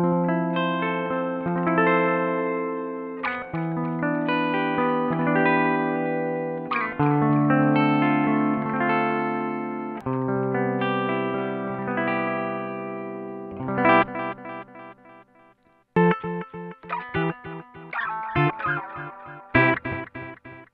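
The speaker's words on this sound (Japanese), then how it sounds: "ボスのデジタルディレイという感じがしてですね、デジタルディレイなんだけど温かいサウンドな印象です。" Electric guitar run through a BOSS DD-20 Giga Delay pedal in standard mode, chords and single notes ringing with warm digital echo repeats trailing each phrase, playing steadily alone with brief pauses near the end.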